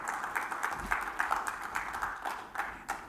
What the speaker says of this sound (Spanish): Si lo cree, dale palmas al Señor, dale gracias